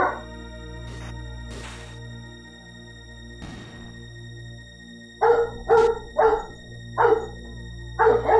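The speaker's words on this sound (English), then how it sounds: "And I do apologize for the barking. That's my dogs." Pet dogs bark indoors in a burst of about six sharp, loud barks, close to the mic, over a steady hum of background game audio during a livestream of Chrono Trigger Redux.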